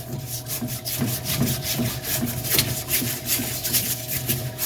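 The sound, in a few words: scrubbing steering knuckle with Scotch-Brite pad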